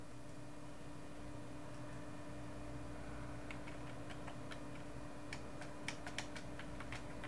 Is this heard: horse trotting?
no